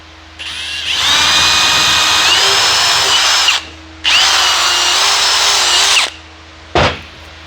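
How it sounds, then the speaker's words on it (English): A power drill whines loudly in two long sustained bursts with a short gap, drilling a hole in a belt, followed by a brief final spin, no talking. "So drill another hole in the belt."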